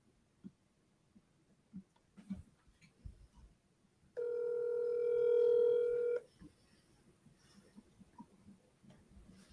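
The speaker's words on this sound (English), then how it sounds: "So let's start dialing." Phone dialing tones sound while a property owner is being called: a steady loud tone of about two seconds stands out over low background noise and scattered faint clicks.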